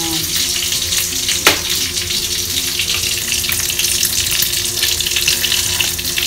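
Egg scrambles in a frying pan with a constant crackling sizzle that stays loud throughout, broken by a sharp clink of a utensil against the pan.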